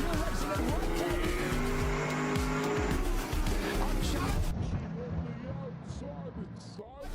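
Race cars, a Porsche among them, roar off the green flag at the start of the Michelin 6 Hours of Abu Dhabi endurance race, engines loud and rising, with tire squeal as the field heads into the first corner before the pack thins out.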